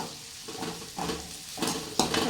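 Onions fry in a pan with pepper powder, giving a soft sizzle broken by several stirring scrapes and utensil clatters that come and go at irregular intervals.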